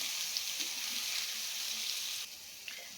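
Mung dal and gobindobhog rice fry in a pan while being stirred, giving a steady, even sizzle with faint scraping that drops slightly in level near the end.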